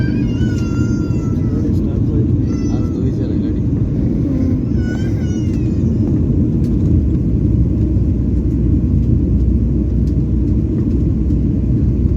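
Steady, loud cabin roar inside an airliner descending toward landing in Dubai, a continuous low rumble of engines and airflow throughout, with faint voices in the cabin early on.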